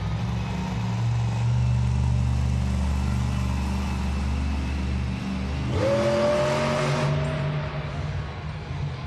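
Monster Jam monster truck Megalodon at an arena event, a loud rumbling engine idling and building, then a sharp rising rev that surges and fades away.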